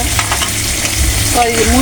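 Duck meat going into a pan of frying spiced masala for duck biryani, with a steady close sizzle and stirring scrapes throughout.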